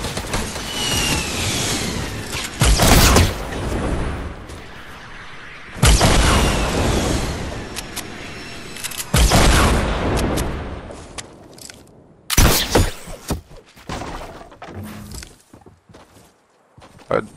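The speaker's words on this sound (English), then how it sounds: "you're gonna keep shooting now" Gunfire in the video game Fortnite Season 6 comes as several loud, sharp bursts at irregular intervals, with quieter rustling and movement sounds in between.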